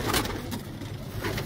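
A pigeon coos in a pigeon loft, soft repeated low calls close by over faint background noise.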